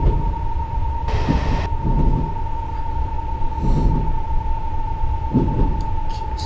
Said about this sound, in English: And we are driving an 8-car train since it's called an S8 stock.